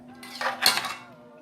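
A utensil scrapes and clinks against a cooking pot while tomato paste is stirred over low heat, a single short, close burst of metallic stirring.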